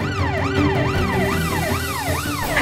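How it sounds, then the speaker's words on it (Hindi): An ambulance siren wails loudly and steadily as it arrives, its tone sweeping up and down in a regular repeating cycle over a low rumble of traffic. "एम्बुलेंस आ गई।"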